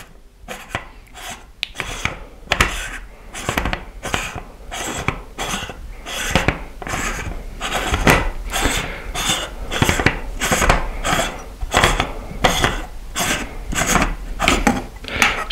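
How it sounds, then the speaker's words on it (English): A blue visual back unscrews from an RVO Horizon 72 ED telescope, giving a close run of short, regular rasping scrapes of metal threads turning, with no talking. "So the visual back unscrews like so."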